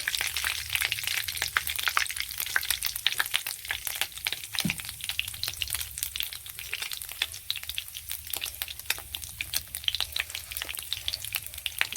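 Oil sizzles and spits steadily in a pan as it heats for tempering spices, a constant crackling fry close by with a brief stir partway through and no talk.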